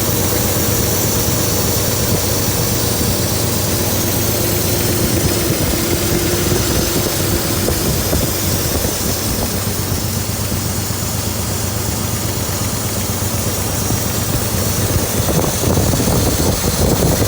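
A 1969 Corvette C3 with a big block engine, started after nine years of sitting, idles loud and close in a continuous low rumble that stays steady throughout, with no talking.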